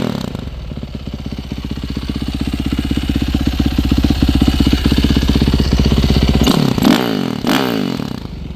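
Yamaha YZ450F dirt bike engine running close up, a loud, rapid, steady pulsing thump that rises slightly in pitch, then blips and revs briefly near the end.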